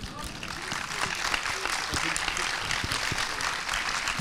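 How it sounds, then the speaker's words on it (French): An audience at a screening Q&A with the filmmakers claps for the guests once more, a dense wash of applause kept up throughout, with voices mixed in under it. "est-ce qu'on peut les applaudir de nouveau ?"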